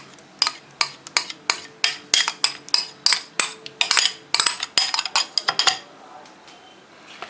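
Minced meat is worked together with a bread-and-milk mash for cutlets, a steady run of clinking utensil strikes against a bowl, rhythmic and close, ending after about six seconds.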